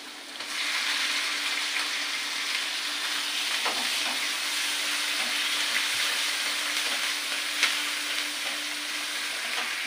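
Onions frying with ginger and garlic in hot oil give a steady, close sizzle that runs continuously without pause, with a few faint stirring clicks on top.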